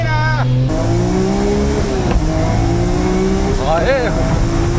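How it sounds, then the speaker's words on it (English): A 600-horsepower Nissan GT-R race car accelerates hard on track, its engine note climbing steadily and loud throughout with a brief tire squeal, while a commentator talks over it. "Acceleration with 600 horsepower is just amazing."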